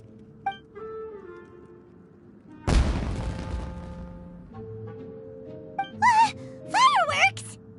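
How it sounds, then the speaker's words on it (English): Fireworks go off in Genshin Impact: a single loud, sharp blast that trails into a fading crackle, with soft game ambience before it and brief character vocal sounds afterward. "Huh? Was that an explosion? It sounded like fireworks."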